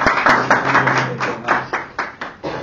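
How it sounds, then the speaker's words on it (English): A small audience claps for a speaker, a modest, uneven patter of hands that thins into a few separate claps toward the end, close and fairly loud. "So with a round of applause, please"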